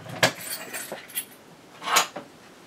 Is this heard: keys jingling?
yes